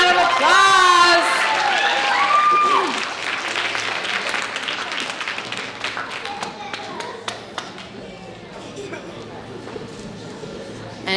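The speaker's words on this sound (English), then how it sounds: "Let's give them a great round of applause." Audience applause at a student oratorical contest and art competition ceremony, clapping that starts under a voice and thins out over several seconds into scattered individual claps.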